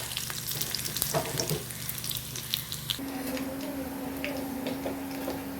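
Mustard seeds and chopped shallots sizzling in hot oil for tempering a curry, a steady close crackle with scattered sharp pops and spits, and the tone shifts to a brighter hiss partway through.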